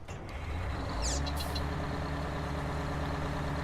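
A Big Bud tractor with a Detroit engine in Farming Simulator 19 idles with a steady, deep diesel rumble close by. A brief hiss rises near the start, and no voices are heard.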